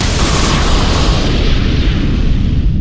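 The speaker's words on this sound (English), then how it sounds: "Fireball jutsu." A loud, roaring fire-style fireball jutsu explosion from Naruto animation, a dense sustained blast filling the whole moment with rumbling boom and no voices.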